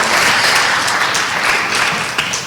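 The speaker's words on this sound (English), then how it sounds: "one last round of applause for all 4 grade levels" Loud, dense applause from an audience at a school class awards ceremony, sustained and even for the whole stretch with no talk over it.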